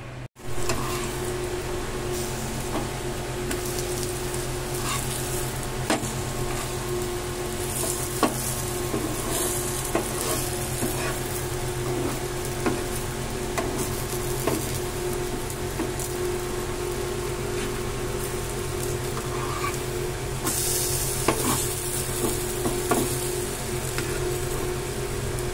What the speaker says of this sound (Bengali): এইভাবে বেলে পরোটার আকারে সেঁকে নিয়ে একটু অল্প তেল দিয়ে ব্রাশ করে আমি এই পেঁয়াজের পরোটাটা আজকে করছি